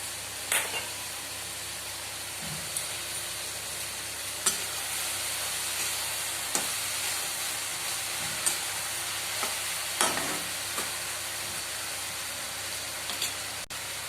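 Chopped onions sizzle steadily in hot oil for a bottle gourd and fish curry, a continuous close frying hiss broken by occasional sharp clicks of stirring, with no voices.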